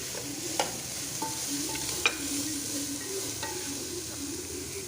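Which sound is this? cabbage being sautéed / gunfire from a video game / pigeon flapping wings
cabbage being sautéed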